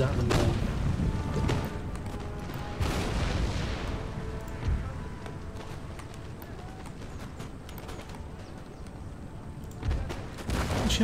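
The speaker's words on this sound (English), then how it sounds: "Cannons at them all." Repeated cannon artillery fire in the Empire Total War strategy game, booming thuds at irregular intervals over a dense battle din of muskets and movement, with a voice talking over it.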